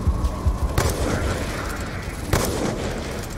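Gunfire in Call of Duty Black Ops 2, including the DSR sniper rifle, with two sharp punchy shots spaced apart over a rumbling battlefield din, loud and close with no talk.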